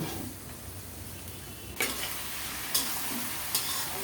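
Chopped bottle gourd fries quietly in a pan with turmeric and bay leaves, a soft continuous sizzle broken by three distinct scraping stir strokes of a spatula in the second half.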